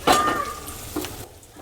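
Chopped onions drop into hot oil in a pan, a brief sizzling burst with a clink of utensil, fading after about a second.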